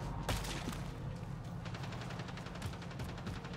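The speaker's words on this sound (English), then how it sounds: "They're shooting." Gunfire from Mass Effect Andromeda: repeated rapid shots, some in quick bursts, over a dense, steady background of combat noise.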